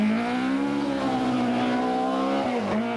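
A BMW rally car on a slippery stage of the 1991 Circuit of Ireland Rally holds a loud, sustained engine note that wavers as the wheels scrabble for grip, then dips sharply near the end.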